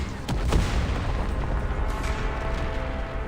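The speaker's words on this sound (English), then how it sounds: "There's a sudden ear-splitting pop followed by a thundering explosion as rocks spatter across her armor." Explosion in the video game Reverse: 1999: a sharp pop followed by a rumbling, thundering blast with a broad low roar that lingers and fades unevenly, fairly close and without talking.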